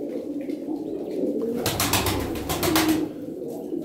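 Pigeons cooing near a blue pied double mirror-tail pigeon in a loft, a low rolling coo with a burst of fluttering wingbeats in the middle, close and fairly loud over a steady background hum.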